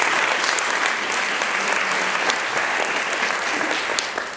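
Luncheon guests applaud at an education awards event, a full, dense round of clapping from a large room with a few sharper individual claps popping out, steady throughout and easing slightly at the end.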